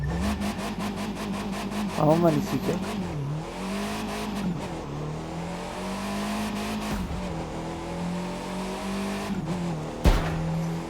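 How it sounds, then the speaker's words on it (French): A Monster Truck with huge wheels in the racing video game The Crew 2 gives a sustained engine drone with rising revs and tire noise, while someone talks briefly in French over it. "un Monster Truck qui est magnifique avec des roues énormes."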